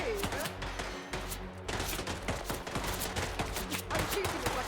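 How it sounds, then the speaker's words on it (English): Gunshots from a slow-firing gun in Silent Hill 2 crack repeatedly in an irregular, fairly quick series over a dense, busy background, moderately loud. "I'm shooting this like a buffoon. I don't like this gun, it's too slow for me."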